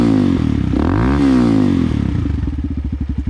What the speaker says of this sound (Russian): Сейчас немножко погазую.